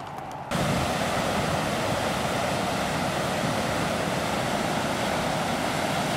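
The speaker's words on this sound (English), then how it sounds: "just enjoying a nice day on the middle fork of the Clearwater River" Rushing water of the middle fork of the Clearwater River on the Nez Perce Trail makes a steady, loud, broadband roar that continues unbroken after a brief quieter start.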